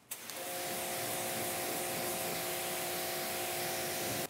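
Water spray rinsing a car hisses in one continuous close burst, starting abruptly and cutting off after about four seconds, with a faint steady tone beneath it.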